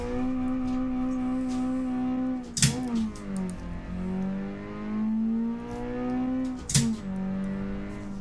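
A JDM sports car engine in a video game revs up through the gears, a loud tonal whine climbing in pitch, dropping sharply at two quick shifts and climbing again, with no talk.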